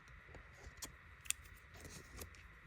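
Scissors snip off excess tape at a paper hinge on a handmade junk journal pocket folio, giving a few quiet, crisp cuts spaced over a few seconds against a soft background hiss.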